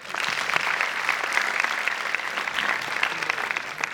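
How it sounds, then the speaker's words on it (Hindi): An audience at a kids camp annual day bursts into steady applause, a dense, continuous wash of many hands clapping together at moderate loudness. "तो चलो हमारे लिए हम ताली बजाएंगे."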